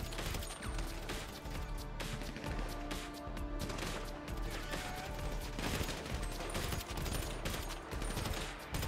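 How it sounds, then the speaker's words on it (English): Dense, loud gunfire in GTA V: rapid automatic bursts and overlapping shots crackle continuously, with crashes and impacts mixed through a chaotic firefight. "Two of us were shooting one."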